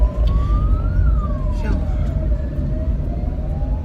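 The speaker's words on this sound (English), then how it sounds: "It's the ambulance." A wailing ambulance siren sweeps up and down over steady traffic rumble, fairly close and continuous.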